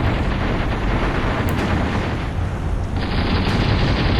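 Dense, continuous battle noise from Graviteam Tactics fills the scene, with sustained gunfire and rumbling blasts blending into a loud, unbroken roar.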